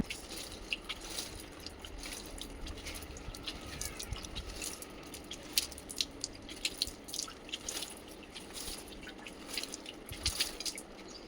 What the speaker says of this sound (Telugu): ఇంక ఇలా చల్లుతూ ఉన్నాను మగ్గుతో వాటర్ తీసుకుని